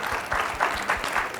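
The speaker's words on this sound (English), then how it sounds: "that actually deserves some applause" Steady applause from a crowd at an educational congress panel, dense and continuous clapping with slight swells throughout the short clip.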